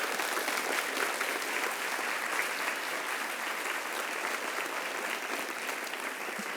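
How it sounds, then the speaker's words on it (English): An audience claps at the end of a talk by Jeffrey Boakye at the Lit in Colour Student Conference 2023. The applause is full and continuous, holding a steady level for several seconds before easing slightly toward the end. "we're going to stop there with a round of applause"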